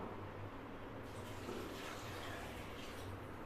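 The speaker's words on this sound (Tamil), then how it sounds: "இப்போ இதுக்கு தேவையான தண்ணி ஊற்றிக்கலாம்" Water pours steadily into a pot of rice for pumpkin biryani, a soft, constant rushing that stays faint and even throughout.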